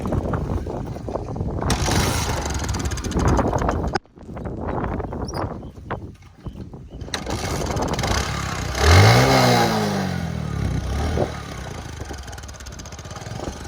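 A motorcycle engine starts and revs, rising and falling through several throttle blips with a pitch sweep, loud and close, with a brief gap early on.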